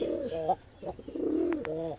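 A Giribaz pigeon cooing up close in soft, throaty, repeated murmurs, with a couple of brief faint clicks near the end.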